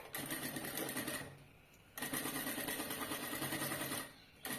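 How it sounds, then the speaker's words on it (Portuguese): Sewing machine stitching a finishing seam about 1 cm in along the top of a side pocket on a convertible bag-backpack, a loud steady needle whir in two long runs split by a short pause. "Vou ajeitar bem e vou fazer uma costurinha de acabamento."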